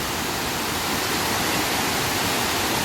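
Areeckal waterfall pours in a steady, dense roar of rushing water, loud and close, with no break or voice over the full stretch.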